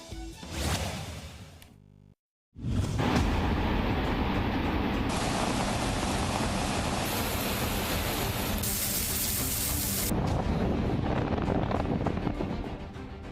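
Heavy rain pours down in Jetpur, Rajkot, Gujarat, in a loud, steady roar, broken by a brief silent gap near the start.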